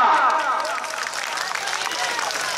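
Crowd applause at an open-air wrestling (kusti) match in a village ground, a dense, steady wash of clapping that stays loud throughout, with a voice over a loudspeaker briefly audible at the start.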